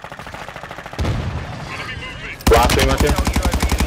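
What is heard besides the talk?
gunfire in a shooter video game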